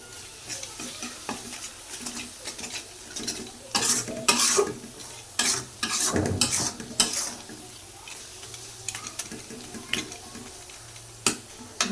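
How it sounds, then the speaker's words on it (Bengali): Dried fish curry being stirred and fried in a pan with no water added, oil rising, a steady sizzle broken by repeated scraping strokes of a spoon against the pan, close and fairly loud. "এখন ভালো করে ভাজে নিই"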